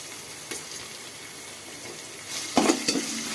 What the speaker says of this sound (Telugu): ఇది పచ్చివాసన పోయే వరకు ఫ్రై అవ్వాలి.